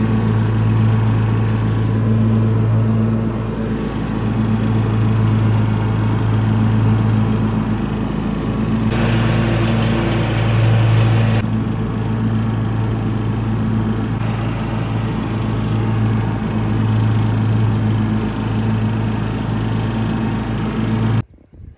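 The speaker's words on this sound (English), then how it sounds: "I'm just about to go and do some more ride on mowing in the field actually." A ride-on lawn mower mows a field with a loud, continuous engine drone that runs steadily for about twenty seconds, with slight shifts in load, before cutting off abruptly at the end.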